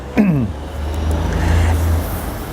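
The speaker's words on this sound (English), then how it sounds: "We'll wait for the garbage truck to go by." A garbage truck drives past nearby, a loud low engine rumble with a descending whine and hiss, steady and close throughout.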